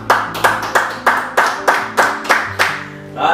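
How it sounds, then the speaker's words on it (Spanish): Rhythmic clapping in a church service, about eight evenly spaced sharp claps in a steady beat, loud and close, as if a congregation claps together in time before trailing off. "Wow, no merece un aplauso."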